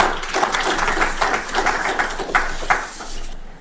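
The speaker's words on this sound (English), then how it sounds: "If we could clap for them." An audience at a 2023 WRC Safari Rally ceremony gives a short burst of applause, a dense patter of many hands clapping that fades within a few seconds.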